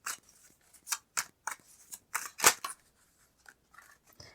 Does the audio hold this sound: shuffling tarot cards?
yes